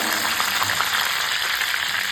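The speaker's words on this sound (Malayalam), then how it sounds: "വെളിച്ചെണ്ണ നന്നായിട്ടൊന്ന് തിളച്ച് വരുന്ന സമയത്ത് ഞാൻ കുറച്ച് നല്ല നാടൻ കറിവേപ്പില ഇതിലേക്ക് ചേർക്കുന്നുണ്ട്" Curry leaves crackle and sizzle in hot coconut oil in a clay pot, a dense, steady frying hiss that stays close and unbroken from start to finish.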